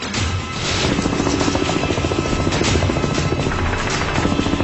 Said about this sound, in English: the choppers take off without firing a single shot